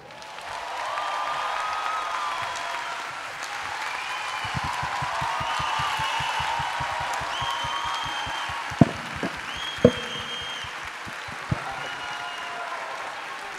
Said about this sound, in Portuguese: Batam palmas com firmeza para encerrar esse cordel